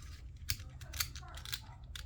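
A rattly mini 3x3 puzzle cube being turned, with three sharp clicking snaps about half a second apart over a faint background hum, close and fairly quiet.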